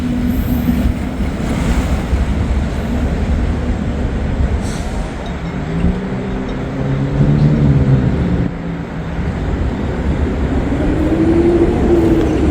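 A train rumbles steadily across a river bridge, a loud continuous roar with wheel squeals rising and falling throughout.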